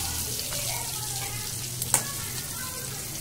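Hilsa fish head frying in oil in a Bengali home kitchen, a steady soft sizzle throughout with one brief sharp crackle near the middle.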